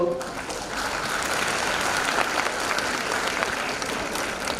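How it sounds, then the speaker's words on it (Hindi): A crowd at an Ayurveda lecture on infertility and gynecology in Pune claps steadily throughout, a dense, even wash of applause that stays at a consistent level with no break. "तो आप बेझिझक तालियां बजाओ।"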